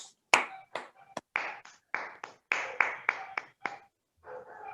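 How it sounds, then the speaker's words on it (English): Members of a Toastmasters club clap in a sparse, uneven run of separate claps, close and fairly quiet, as if from only a few people. "we, the Toastmasters of Bangalore Toastmasters Club, deserve a big round of applause"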